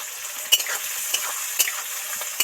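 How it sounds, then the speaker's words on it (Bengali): Spring onion stalks crackle and sizzle in deep oil for a vegetable labra, a bright spitting fry broken by a few sharp pops and stirring scrapes, close and unaccompanied by speech. "পেঁয়াজ কলি এরকম তেলে ডুবো তেলে একটু ভেজে নিতে লাগে"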